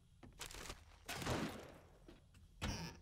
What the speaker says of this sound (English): The guy with a shotgun outside is firing at everything.